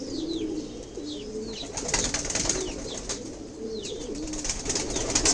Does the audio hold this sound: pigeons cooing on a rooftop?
yes